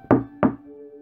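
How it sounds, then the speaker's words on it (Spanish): Two firm knocks on a door, evenly spaced and close by, with a faint steady tone lingering underneath and no voices. "Al día siguiente tocaron a su puerta."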